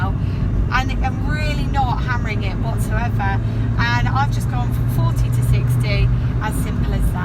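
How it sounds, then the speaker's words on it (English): A 2001 Renault Clio II hums steadily as it accelerates gently from 40 to 60, a continuous low engine and road drone heard from inside the car beneath someone talking throughout. "I'm putting my foot down now, and I'm really not hammering it whatsoever, and I've just gone from 40 to 60"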